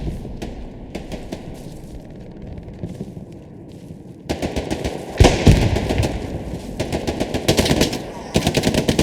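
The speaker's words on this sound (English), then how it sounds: "nice double kill there from Reswaldo with the MG" Machine gun bursts in the World War II shooter Hell Let Loose, rapid rattling volleys that grow louder and denser midway, with sharp nearby shots over distant battlefield gunfire.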